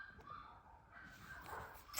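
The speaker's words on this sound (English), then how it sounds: "it looks like I've got 4 dogs in the house, and they're all going insane" Several dogs inside a house yelp and whimper excitedly in the distance, faint and muffled, with short overlapping cries over low background noise.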